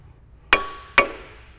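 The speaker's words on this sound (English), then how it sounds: "Couple of taps with the hammer." Two sharp metallic hammer taps ring out close and clear on the laser sights of a rock drill boom, each followed by a brief ringing decay.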